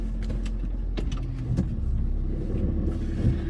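A Honda Civic on the move, with a steady low engine drone and road rumble filling the cabin, plus a few faint clicks and rattles over it. Nobody talks.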